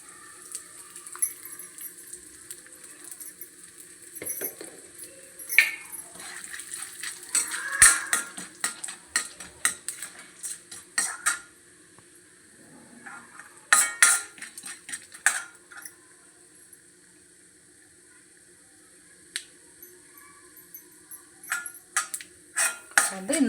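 Cumin and spices frying in oil in a pan for Tamil variety rice, a soft steady sizzle broken by scattered clinks of a metal spoon against the pan, heard close and alone.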